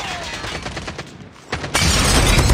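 Gunfire from the Going Dark shooter video game, rapid bursts of shots, briefly dropping quieter before a loud dense volley resumes close up.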